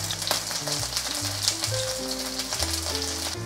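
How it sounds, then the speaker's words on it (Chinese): Bell peppers frying in oil in a wok for a vegan cabbage dish give a continuous soft crackling sizzle, with steady light pops running throughout under faint background music tones. "锅内放入适量的油，把甜椒放进来煎。"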